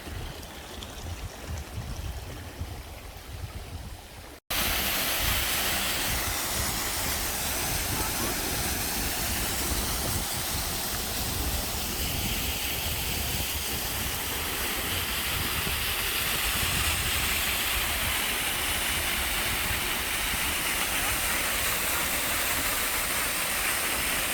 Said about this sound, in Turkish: Şelalenin üstüne geldik.